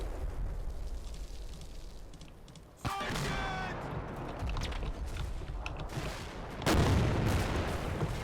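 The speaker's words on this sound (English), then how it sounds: "Now we've got that AT gun starting to ping the front of that" An anti-tank gun shooting at the front armour of a Panther tank in a WWII war game, with sharp distant cracks and a ringing metallic hit, then a heavier blast, over low battlefield rumble.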